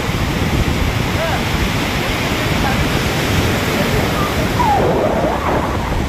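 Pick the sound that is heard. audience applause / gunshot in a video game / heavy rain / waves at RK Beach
waves at RK Beach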